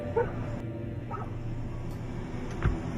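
A few short dog barks or yips at a moderate distance, spaced apart over steady low background noise.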